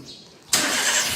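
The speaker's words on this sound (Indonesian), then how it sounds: "Pertama kita nyalakan dulu kendaraannya." A Daihatsu Xenia R Deluxe 2014 car engine cranks and fires after a quiet moment, catching suddenly and settling into a loud, steady close-up run.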